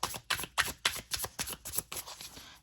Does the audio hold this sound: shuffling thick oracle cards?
yes